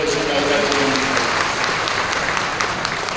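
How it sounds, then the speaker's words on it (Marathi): A large crowd at a political rally in Chandwad applauds loudly and continuously to welcome Rahul Gandhi during the Bharat Jodo Nyay Yatra, while a voice speaks over the clapping. "त्या राहुल गांधींचं आपण टाळ्या वाजवून जोरात स्वागत करावं"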